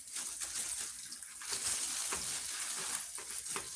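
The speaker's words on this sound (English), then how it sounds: "You're going to hear it sizzling real nice." Food sizzles and crackles in hot oil, a quiet steady hiss broken by scattered pops and spits.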